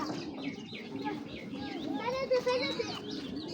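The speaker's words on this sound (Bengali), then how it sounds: "দেখেন মাশাআল্লাহ সাইজ কি ভাই কবুতরের" Pigeons cooing softly in a loft among pigeons being shown, with low throaty coos and a few chirps under light background voices.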